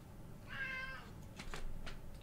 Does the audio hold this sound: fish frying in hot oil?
no